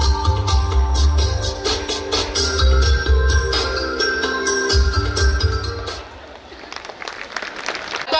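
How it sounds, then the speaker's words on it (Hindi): An audience claps at a school annual function, a dense continuous applause with a crowd murmur underneath that holds through most of the stretch and then thins near the end. "तालियों की आवाज ही नहीं आ रही।"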